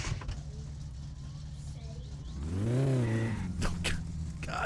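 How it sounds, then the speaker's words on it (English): Car engine in My Summer Car over-revving, a low droning hum that climbs into a sharp rising whine, then drops back with a couple of clicks, moderately loud with no talk. "I totally over-revved it."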